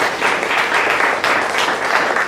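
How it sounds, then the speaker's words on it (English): A conference panel audience applauds steadily, a dense wash of many hands clapping at once, loud and continuous throughout. "let's hear an applause if you have had some successes with your business so far"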